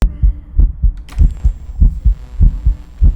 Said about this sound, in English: Raijus currently have a super bass boosted heartbeat that sounds like this